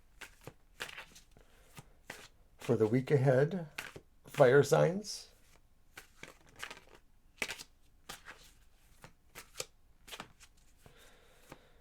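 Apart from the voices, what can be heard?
tarot cards being shuffled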